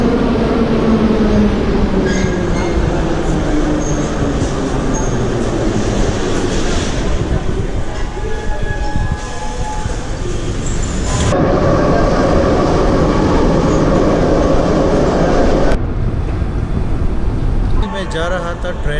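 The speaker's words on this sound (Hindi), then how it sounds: "यहाँ पे अभी ट्रेन आएगी।" An underground metro train in Tashkent pulls into the platform with a loud, steady rumble and rattling wheels, the noise shifting as carriages pass. A person speaks over it.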